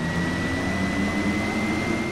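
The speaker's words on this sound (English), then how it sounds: "Or fly a plane in flight sim." Airplane engine in a flight simulator game, a steady, loud drone with a constant high whine over a low rumble that holds unchanged from start to finish.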